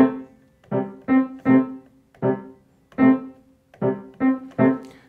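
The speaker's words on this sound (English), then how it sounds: "you play the same pattern on the piano. It sounds like this." Piano notes repeat a short rhythmic pattern, clear detached strikes on one pitch with brief gaps, close and moderately loud with no voices.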